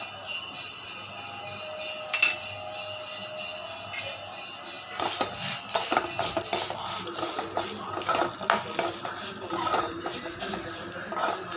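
Chana dal tipped into hot oil in a pan, giving a sudden crackling fry. Dense spattering follows, with clinks of a metal spoon stirring against the pan. The sound is close and busy, and no one talks.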